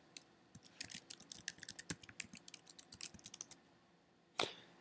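Someone types a password on a computer keyboard, a quick run of close, crisp key clicks ending in one louder keystroke, with no talk.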